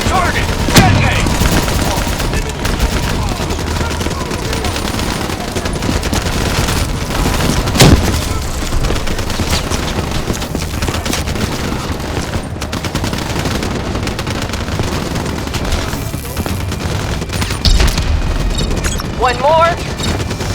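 Continuous loud gunfire and explosions from a Call of Duty Black Ops III mission, with a dense roar of shots and blasts lasting throughout and a sharper detonation burst in the middle, mixed with game voices.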